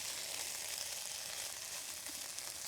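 Chorizo frying in a GreenPan nonstick camping pan, giving a steady, dense sizzle that holds evenly throughout with no voices.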